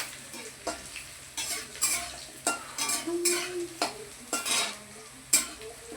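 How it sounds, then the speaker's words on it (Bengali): Potatoes frying in a pan at home, a soft sizzle broken by a series of distinct scraping stirs and utensil clinks against the pan, spaced roughly every half second to a second. "এবার এটা আলুটা ভাজা ভাজা হয়ে যাবে"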